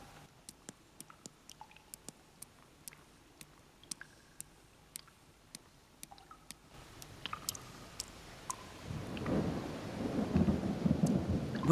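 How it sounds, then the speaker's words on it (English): Rain and thunder hit the caves of Ankarana: sharp scattered cracks and drip-like clicks at first, then a swelling rush of heavy rain with low rumbling near the end, faint and distant. "When the rains finally come, they pour through its leaky roof."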